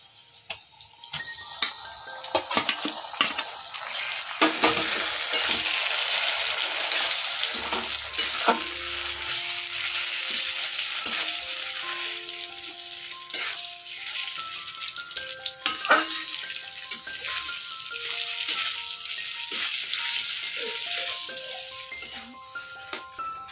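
Mashed flat bean paste added to fried onions in a pan: loud hissing sizzle rises early, then settles into softer frying with repeated spatula scrapes and taps, no voices.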